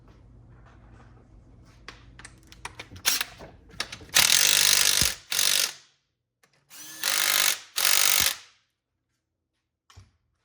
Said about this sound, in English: Now you can go ahead and tighten up your 15 mils.